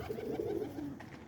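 A DeMarino-bred racing pigeon coos in a loft early on a Sunday morning, a soft, low, rolling call of about a second, faint over quiet background.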